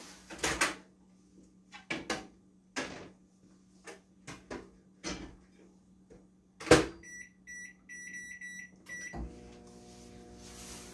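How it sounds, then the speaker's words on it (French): A Tupperware dish goes into a microwave oven for 20 minutes of cooking: a series of handling knocks and a door thump, a string of beeps from the keypad, then the steady hum of the oven running, all fairly close with no talking. "Donc, 20 minutes au micro-ondes."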